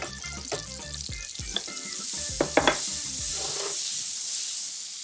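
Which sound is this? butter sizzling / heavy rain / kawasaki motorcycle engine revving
butter sizzling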